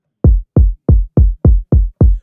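A trap kick drum sample in FL Studio, a deep booming kick hit seven times in a steady, evenly spaced rhythm, each hit loud and punchy with a short decaying tail, with no other sound.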